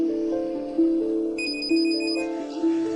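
A telephone rings in a repeating electronic pattern, loud and close, with steady pulsed tones and a brighter chiming layer joining midway, no voices over it.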